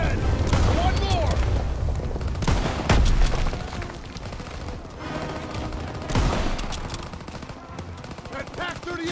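Machine guns and rifles fire in rapid bursts during an Operation Cobra battle in Call of Duty WWII, with heavy booms mixed in and shouting soldiers heard over the din.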